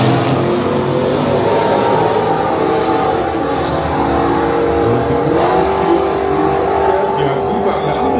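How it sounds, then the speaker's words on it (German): A 7.8 litre Camaro doorslammer at a NitrOlympX drag racing event roars continuously with loud, sustained engine noise through a quarter-final run, without pause. "nun muss Marianne Wieloske versuchen, ein bisschen schneller zu fahren"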